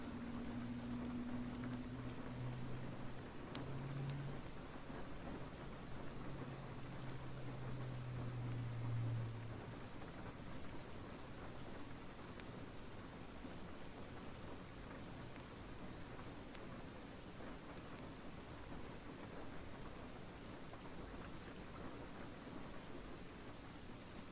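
Steady rain falls in an even, hissing wash throughout, with a low hum in the first few seconds and no other sounds breaking through.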